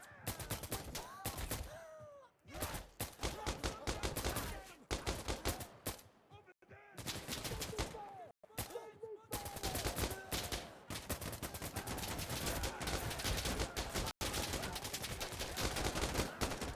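Rapid bursts of automatic and single gunfire in the shooter game Insurgency Sandstorm, loud and dense with brief gaps between volleys, and a faint voice underneath.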